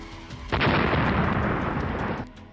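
A sudden loud blast from a home air conditioner exploding erupts and roars on for nearly two seconds, a dense rumbling burst that then cuts off abruptly.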